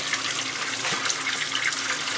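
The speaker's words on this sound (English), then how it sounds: "Just draining everything back." Water draining back through household plumbing with the faucets open during a whole-house water filter installation: a steady, close hiss of rushing water with no breaks and no voices.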